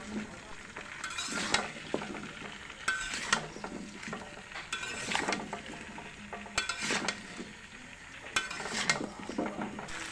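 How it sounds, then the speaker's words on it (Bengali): Mango pieces coated with turmeric and salt fry in oil for a pickle, giving a soft sizzle broken by repeated scraping stirs of a spatula in the pan, with no talking. "হলুদ গুঁড়ো দিয়ে এখন তেলের মধ্যে নাড়াচাড়া দিয়ে বেশ কিছুক্ষণ সময় ভেজে নিব"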